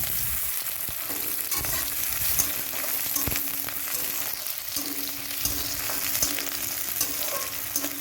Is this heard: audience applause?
no